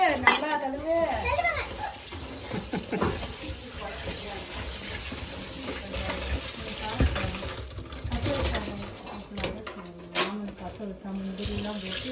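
Crabs for a crab curry being washed in a bowl: running tap water splashing, with clinks of a metal bowl and shell against it. Brief voices are heard at times.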